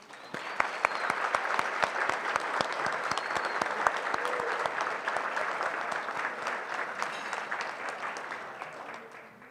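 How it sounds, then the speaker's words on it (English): A banquet audience honors retirees with sustained, loud applause, many hands clapping together in a dense roar and a few sharp close claps ringing out near the front, steady throughout before tapering slightly at the end. "please join me in one more round of applause for all of our retirees."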